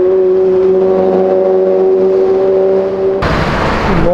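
Three Lamborghinis rev hard together, a loud close engine drone with steady harmonic tones that suddenly breaks into a harsh, roaring burst of acceleration near the end.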